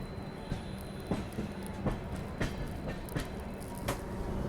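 A Duronto Express train rolls through Kharagpur station with a continuous rumble and a regular clickety-clack of wheels over rail joints, steady and moderately loud throughout.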